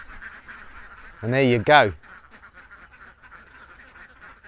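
Ducks in a fenced enclosure give a brief pair of loud, close, nasal quacks, set against quiet outdoor background and someone speaking briefly.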